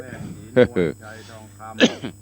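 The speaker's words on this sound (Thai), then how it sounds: "ขอประทานอภัย เสียงกระแอมกระไอ" A throat clearing and a cough from a monk giving a Dharma talk, two or three sharp close bursts over a steady background hum.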